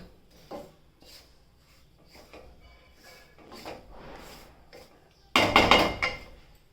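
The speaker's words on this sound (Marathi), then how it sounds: "बारीक गॅसवरती छानपैकी भाजून घ्यायचा" Semolina roasting in a pan over a low flame, with soft scraping and rubbing strokes of stirring that turn into a louder, dense burst of scraping near the end, close and with no voices.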